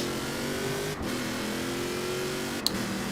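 A racing V8 engine in a tuned Mosley race car in Forza Horizon 4 drones steadily at high revs, with two brief dips as gears shift, loud and continuous.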